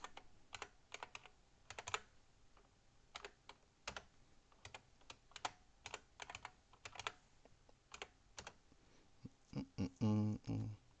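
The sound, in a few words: typing a password on a computer keyboard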